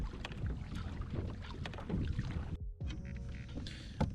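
A kayak is paddled across open water near manatees, with repeated close splashes and drips from the paddle, hull knocks and light wind buffeting on the microphone, and a brief lull near the end.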